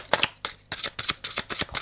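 Tarot cards are shuffled and drawn by hand, giving a string of brisk papery riffles and snaps in short repeated bursts, close and soft, with no voice over them.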